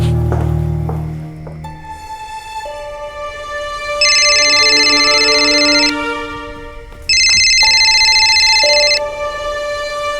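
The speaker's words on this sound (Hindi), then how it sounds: "गिरीश फोन क्यों नहीं उठा रहा है?" A telephone rings on and off without being answered: a loud, close electronic ringtone melody of repeating bursts with short pauses between them, following a brief low thump at the start.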